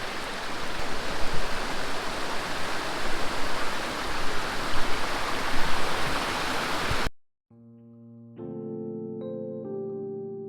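A steady, loud broadband rush of falling water at Crystal Falls in Hiawatha Highlands fills most of the stretch, then cuts off abruptly, giving way to a few seconds of unrelated musical tones.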